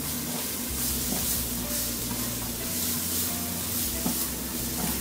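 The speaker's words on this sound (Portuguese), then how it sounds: "Vamos dar uma leve fritada no alho." Two cloves of finely chopped garlic fry in rendered bacon fat in a single pot, giving a steady, dense sizzle with faint stirring scrapes throughout.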